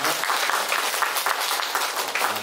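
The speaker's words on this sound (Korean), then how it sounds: "우리 한 박수로 환영하겠습니다" A church congregation at a Sunday service claps warmly to welcome a returning missionary, a sustained, fairly close burst of many hands with a few louder individual claps standing out.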